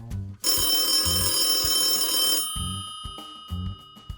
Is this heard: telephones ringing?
yes